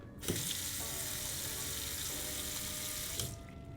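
Water runs steadily from a bathroom tap as shoes are rinsed beneath it, a continuous close hiss that starts abruptly and cuts off after about three seconds.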